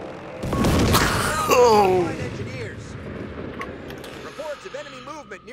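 Airstrike explosions rumble and boom through a Company of Heroes 3 battle, a long heavy roar with crackling debris, under a startled shout from a player.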